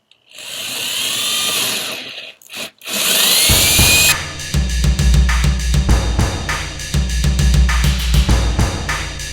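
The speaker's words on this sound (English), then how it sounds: "drill out the holes for the tuning pegs a little bit." A power drill bores holes for tuning pegs through the wood of a homemade bass, whining as it spins up, then chattering and grinding loudly and unevenly as the bit bites into the wood, up close.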